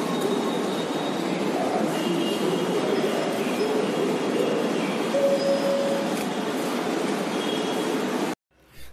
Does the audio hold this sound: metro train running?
yes